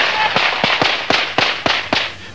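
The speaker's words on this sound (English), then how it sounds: "First rifle rounds, then tear gas." Rifle rounds fired by Bosnian police at a crowd in Zenica, heard as a rapid series of about eight sharp, loud cracks at roughly even intervals against a continuous noisy background.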